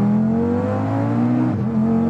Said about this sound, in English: I've been pretty excited to drive Jason's Audi RS3